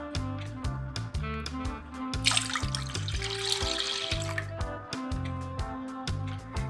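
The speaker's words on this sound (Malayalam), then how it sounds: "രണ്ട് കപ്പ് പാൽ ചേർക്കാം" Milk is poured into a bowl of thick mango paste, a short gurgling splash lasting about two seconds under steady, rhythmic background music.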